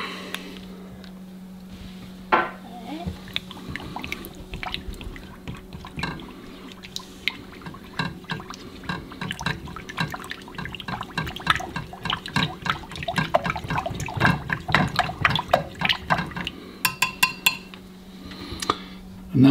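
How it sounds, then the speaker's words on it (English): Homemade deodorant mixture scented with pink grapefruit oil trickles and drips into deodorant containers with clinks of small objects, uneven bursts over a steady low hum, growing busier toward the end. "Now we're just going to pour that into these deodorant containers."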